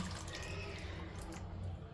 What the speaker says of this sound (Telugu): ఇప్పుడు ఇందులో చింతపులుసు అయితే పోసుకోవాలి